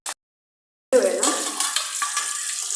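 Parippu vada mixture of ground lentils, fried chillies and curry leaves being stirred and mixed by hand or spoon, a brief tap and then a close, steady scraping and rustling that runs to the end.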